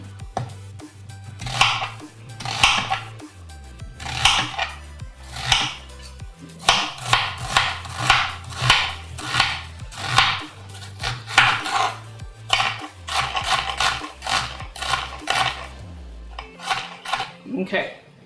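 A knife chops food on a cutting board in a home kitchen while vegan mac and cheese is made. The cuts come as sharp, rhythmic knocks in quick bursts, close by, and a voice talks quietly beneath them.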